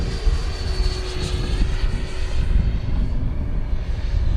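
A 105mm electric ducted-fan RC model of an L-39 jet flies over a grass field, giving off a loud, continuous whooshing fan roar with slight wavering in pitch, heard without speech.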